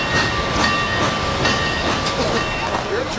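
A Frisco steam locomotive pulls an excursion train out of St. Louis, a loud, close rumble of rolling cars with rhythmic clattering that carries on steadily throughout.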